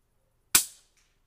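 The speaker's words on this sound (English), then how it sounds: "First shot." A single shot from a Taipan Mutant/Veteran Shorty .25 air rifle, measured at about 15 feet, gives one sharp, loud crack that decays quickly in otherwise near silence.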